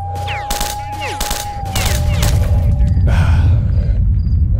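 Sniper rifle fire in STALKER: Shadow of Chernobyl, a run of sharp, loud shots in quick succession over a steady low rumble, with a dense spell of gunfire and debris toward the end.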